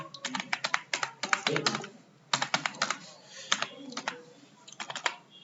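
A name is typed on a computer keyboard, with quick clusters of crisp key clicks, a short pause partway through, then more bursts of tapping that close on a sharper final keystroke, close and clear.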